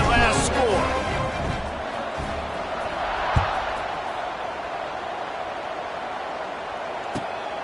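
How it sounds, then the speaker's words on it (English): Stadium crowd at a Washington State vs San Diego State college football game buzzes as a steady, dense roar after a touchdown, continuous and fairly loud throughout, with a brief sharp knock partway through. "this crowd is buzzing after that last score"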